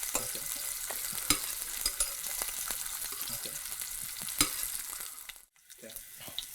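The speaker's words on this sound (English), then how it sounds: "So I'm going to brown it on all 6 sides" Short ribs browning in hot oil in a pot, a continuous close sizzle broken by occasional louder crackles and pops, briefly dropping away near the end.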